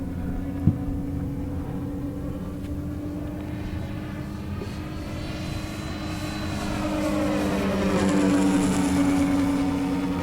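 Radio-controlled Cessna 182 model fitted with a fixed-wing aircraft sound module, making a low, slow flyby as a steady engine buzz that rises in pitch and loudness near the end as it passes close.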